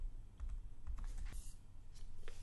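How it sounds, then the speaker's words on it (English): Quiet keys on a computer keyboard tapped a few times in quick, irregular succession, faint and close, with no talking. "If you hit the Command and Plus keys on your keyboard"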